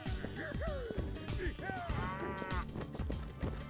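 A holy cow in a video game moos repeatedly, loud drawn-out bellowing calls over clattering game sounds and background music.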